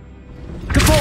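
A Glacius freezing spell from Hogwarts Legacy begins with a quiet low rumble, then breaks into a sudden loud, bright burst like ice shattering close by.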